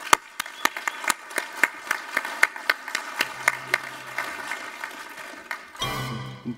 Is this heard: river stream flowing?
no